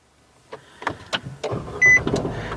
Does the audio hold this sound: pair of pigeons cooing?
no